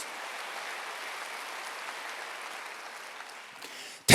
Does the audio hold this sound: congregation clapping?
yes